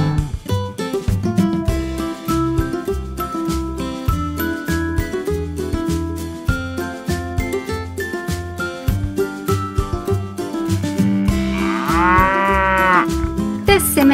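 A single drawn-out moo from Simmental cattle rises near the end over a steady, rhythmic musical backing that plays throughout.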